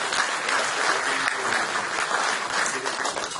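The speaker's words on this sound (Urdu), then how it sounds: "راجہ عرفان مجید صاحب کے لیے بھرپور تالیاں" Loud, full applause from a seminar audience in Barcelona as a shield recipient is honoured, a continuous crowd clapping that holds steady for several seconds.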